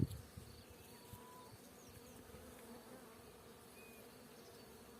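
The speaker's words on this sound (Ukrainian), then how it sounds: "ми спробуємо наблизитись ближче до бджілок, показати, як вони тут працюють на маковому полі" Bees work over a poppy field, a faint, steady insect buzz drifting across an open outdoor setting, with a small bump at the very start and no talk.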